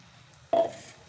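Ground minced meat mixture for keema being stirred in a pan, a single sudden scraping burst with a sizzling wash that fades over about half a second.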